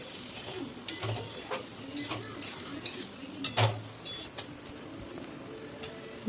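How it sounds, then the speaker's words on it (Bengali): Boiled dal with eggs and spices is stirred and fried in a pan, with repeated spatula scrapes and clinks over a constant sizzle, close and moderately loud. "সেদ্ধ ডাল আর ডিম দিয়ে মশলা দিয়ে ভালো করে কষিয়ে"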